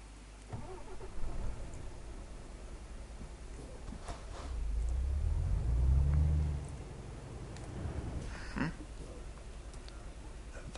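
A new truck in Euro Truck Simulator 2, its quiet engine starting with faint clicks, then a low hum that swells briefly as it pulls away and settles back to a soft drone.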